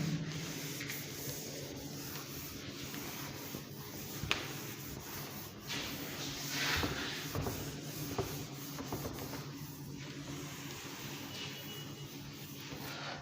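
Steady rubbing and brushing of a duster erasing writing on a classroom board, continuous close scraping texture for several seconds with small bumps and no talk.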